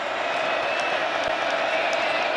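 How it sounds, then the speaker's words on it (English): Steady roar of a stadium crowd at a college football game between Texas Tech and Arizona State, a dense, continuous wash of cheering voices with faint scattered whistles and shouts throughout. "And the crowd has been into it all day."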